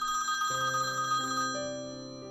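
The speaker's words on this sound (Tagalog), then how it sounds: "biglang tumunog ang telepono sa sala" A telephone ringtone plays a steady electronic melody of stepped tones, clear and close, with no voices.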